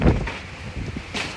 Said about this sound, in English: That was big! Big hail!